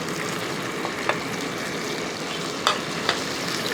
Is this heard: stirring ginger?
yes